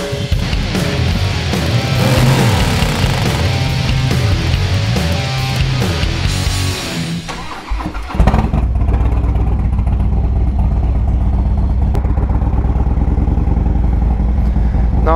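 A fuelled motorcycle kicks into life and pulls away, its engine rumbling and revving loudly before settling into a steady, close drone as it rides off.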